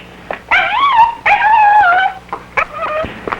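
A dog whimpers and whines in several drawn-out, wavering cries, close and fairly loud, with short pauses between them.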